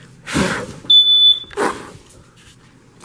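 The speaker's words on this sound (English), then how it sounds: "Yep, that's the fire alarm." A fire alarm gives one short, bright electronic beep between bursts of nearby talk.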